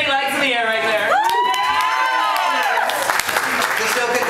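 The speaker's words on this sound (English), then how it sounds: "Everyone applaud Penny" Live show audience applauding and cheering, with dense clapping, whoops and shouted voices filling the room steadily throughout, loud and close.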